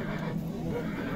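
A horse neighs at a busy horse market, a drawn-out whinny heard amid continuous crowd noise and faint background voices.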